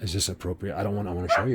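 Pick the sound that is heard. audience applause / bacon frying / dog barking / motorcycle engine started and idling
dog barking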